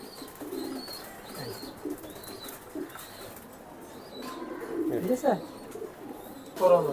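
Pedigree racing pigeons coo in soft, repeated low calls at close range, with occasional wing flaps and a few louder bursts near the end, while low voices murmur in the background.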